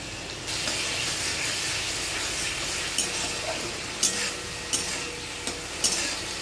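Onion-spice masala for a fish curry sautés in oil with a splash of water, giving a steady sizzle and hiss while a spoon scrapes and stirs the pan several times, loud and close.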